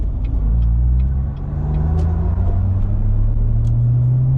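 A road vehicle rumbles steadily and loudly close by, a low engine drone holding through with slight shifts in pitch, no voices.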